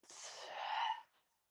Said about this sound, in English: take a deep breath in and a slow breath out